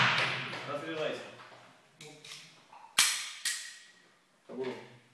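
Pistol shots ring out during a police training drill with a Makarov PM pistol, about five sharp cracks spaced irregularly and fairly close, with someone talking between them.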